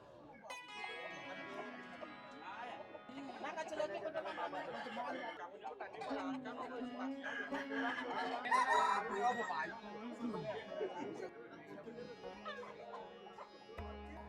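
Roosters crow and cluck amid a cockfight crowd in Bali, the birds' calls rising over constant loud chatter and voices from onlookers, with a dog faintly present.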